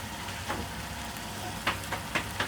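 Green chillies drop into mutton keema frying in a pan, giving a continuous sizzle with several short, brighter crackling spurts near the end.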